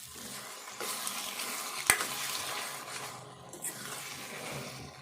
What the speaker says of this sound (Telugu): కొద్దిసేపు ఇట్లా నూనె అంతా పైకి వచ్చేదాకా ఇట్లా ఉడికించుకోవాలి.